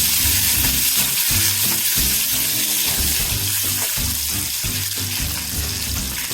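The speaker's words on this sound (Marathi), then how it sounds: "टोमॅटोज आपल्याला छान प्रकारे तेलामध्ये हलवून घ्यायचे आहे." Tomatoes stirred in hot oil for Chinese fried rice, giving a loud, dense, continuous sizzle with rhythmic scraping of a spatula against the pan, close and unbroken throughout.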